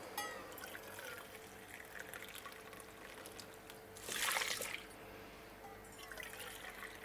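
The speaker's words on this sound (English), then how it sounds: "To that we add 4 cups of water." Four cups of boiled water pour into a homemade laundry soap mixture, a brief splashing gush of about a second midway through a quiet room.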